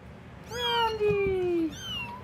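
A kitten meows up close: one long, drawn-out, slightly falling meow, then a shorter second one, loud and clear with no talking.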